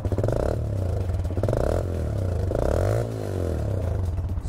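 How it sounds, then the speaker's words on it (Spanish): Vento Cyclone 190 motorcycle engine running through its exhaust, a steady throbbing idle with a few slow rises and falls in revs, close and fairly loud, heard alone without talking. "escuchen el sonido de ese escape, la verdad no me disgusta, suena bastante bien."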